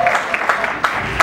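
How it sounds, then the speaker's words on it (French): Applause from an audience at a church ceremony, a steady wash of many hands clapping with a few sharper bursts, close and moderately loud. "S'il vous plaît, un peu des applaudissements"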